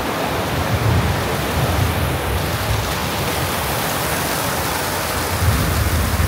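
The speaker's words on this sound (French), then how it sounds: "Ah bah là, la pluie de Bali." Heavy tropical rain in Bali pours steadily and loudly, a dense, unbroken wash of noise from close by with no voices.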